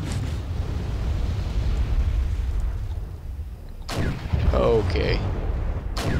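Bombing and artillery fire in the WarGame: European Escalation skirmish, a dense low rumbling barrage that fills the clip, with sharp blast onsets near the four- and six-second marks and a brief spoken word partway through.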